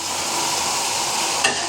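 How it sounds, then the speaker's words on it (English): A full ladle of base gravy hits a hot pan while an Indian restaurant-style mango chicken tikka masala cooks, giving a steady loud sizzle and bubbling hiss with stirring, close up and without talk. "now I'm going to add a full ladle of base gravy"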